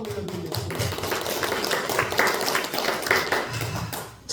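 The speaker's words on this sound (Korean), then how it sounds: "하나님 앞에 박수의 영광을 올려드리겠습니다" A church congregation claps together in praise during a worship service, a steady dense wash of hand claps filling the room at close range for a few seconds.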